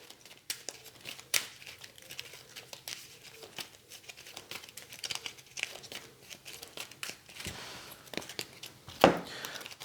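A deck of cards for the deck-building game Shards of Infinity is shuffled at a table, giving close, quiet crinkling and riffling with scattered sharp flicks and snaps over several seconds and a slightly louder slap near the end.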